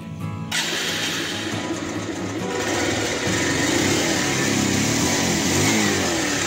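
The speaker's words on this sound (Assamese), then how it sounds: "প্ৰথমতে বাইকখন ষ্টাৰ্টটো দি লওঁ" A Bajaj Pulsar 150 motorcycle starts with a brief crank, catches after about half a second and then settles into a loud, close, steady idle with a slight rise near the end.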